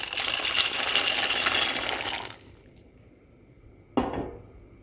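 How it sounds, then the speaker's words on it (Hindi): Dry pasta, 250 grams, is tipped into a pot of boiling water, a rattling clatter of pieces for about two seconds, then quiet, then a sharp metallic clink near the end. "पानी बॉयल हो गया है, इसमें मैं 250 ग्राम पास्ता डालकर बॉयल करूंगी।"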